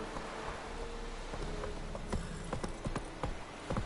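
Hooves clop in a quick irregular rhythm as Roach the horse gallops in The Witcher 3, with the sharpest hits near the end over a noisy outdoor background.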